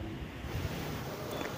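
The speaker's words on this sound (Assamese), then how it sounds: "লাহে লাহে এয়া বতাহৰ স্পীডটো বাঢ়িছে, দেখিছেনে?" A strong wind rising before a storm in Golaghat, Assam, gusts in a continuous rushing blast that buffets the microphone, loud and close, with no voices.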